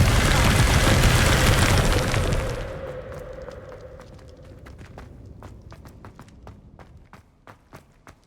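Spell effects from the Hogwarts Legacy video game: a loud, roaring broadband burst of magic fades after a couple of seconds into a quieter hum, followed by a string of sharp, scattered clicks and pops.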